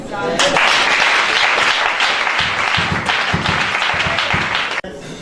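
A church congregation at a Gabonese worship and teaching service breaks into loud, sustained clapping and cheering. Raised voices mix in and the noise stops abruptly near the end.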